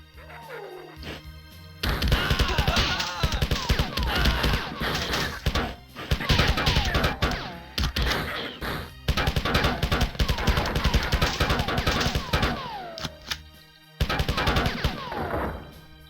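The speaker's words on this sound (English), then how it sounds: "That's a lot of Zeus bullets" Heavy bursts of Zeus bullet gunfire in the Marathon video game, loud rapid crashing volleys in several long stretches separated by brief pauses.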